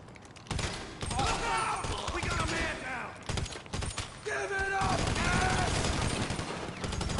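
Gunfire in GTA Online: a full magazine emptied in rapid bursts, loud and close, with brief pauses between volleys and a short break near the middle.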